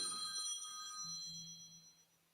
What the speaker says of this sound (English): That's a big fine for me if y'all heard my phone ring.